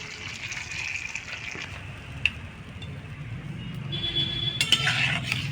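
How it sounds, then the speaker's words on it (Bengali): Water pours into a cooking pot for a mango and fish roe sour dish, a steady gushing stream with a small clink near the middle and a louder burst of pouring toward the end. "আর একটু সামান্য একটু জল।"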